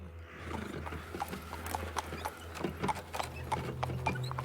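Horses pulling a wagon on a long trek in the Black Book game, their hooves clip-clopping in an uneven, continuous patter over a low rumbling bed of ambient noise, moderately faint.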